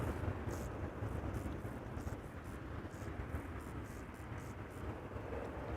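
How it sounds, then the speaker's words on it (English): An Embraer 190 airliner arriving at Amsterdam Schiphol Airport gives a steady, broad distant jet roar that holds evenly throughout, with no voices. "Got another Embraer 190 arriving from Stavanger, flying in from the north."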